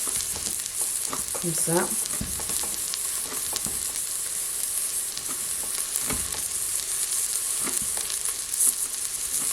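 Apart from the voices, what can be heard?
onions sizzling and frying in a pan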